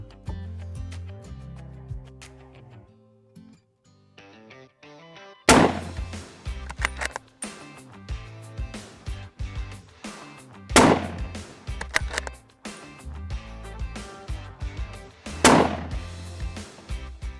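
A Weatherby Mark V Backcountry 2.0 Ti bolt-action rifle fires three loud, sharp reports spaced roughly five seconds apart, with quieter mechanical clatter between them and music playing throughout.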